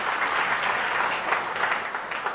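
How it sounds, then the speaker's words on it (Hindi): A seminar audience claps enthusiastically for themselves, a brief, dense burst of applause at steady loudness. "अपने लिए जोरदार ताली।"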